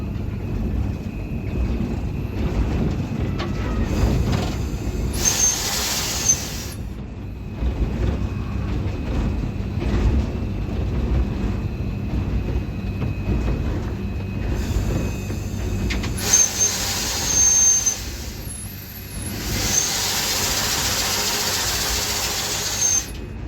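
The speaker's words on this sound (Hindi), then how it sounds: "जाफर एक्सप्रेस अप्रोच में आ रही है पेशावर सिटी स्टेशन में" The Jaffar Express rolls into Peshawar City station in the evening with a steady rumble of wheels on track and two loud bursts of high wheel squeal, with no talking.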